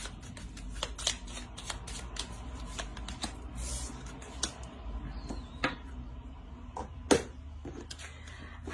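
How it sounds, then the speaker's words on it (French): Tarot cards being shuffled and drawn, soft rapid riffling and flicking with sharper individual card snaps, close and quiet with no talk. "Une seconde carte pour les vierges, s'il vous plaît, pour la saison hivernale."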